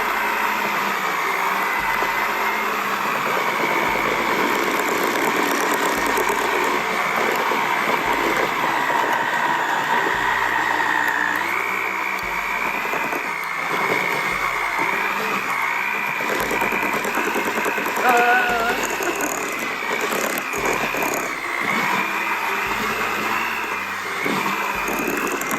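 An electric hand mixer whirs steadily as it beats cream cheese with powdered sugar and vanilla in a kitchen, a loud continuous motor drone with slight wavering pitch and no talking.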